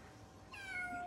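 A white longhaired British kitten gives a single rising meow, close and fairly loud, against a quiet indoor room with no talking.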